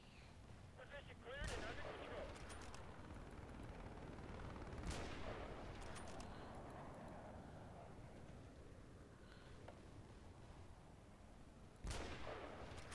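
Gunfire in Battlefield Play4Free: a few loud, widely spaced shots over a constant rumbling battle background, heard up close with no talking.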